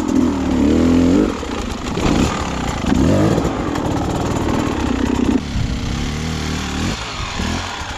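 Dirt bike engine revving hard as the rider tries to climb over a log, a loud, close, fluctuating motor drone with surging throttle bursts and brief dips throughout.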